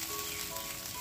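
Five kinds of cut vegetables, including sweet potato, fry together in hot oil in one pan, giving a steady, close, bright sizzle with no pauses.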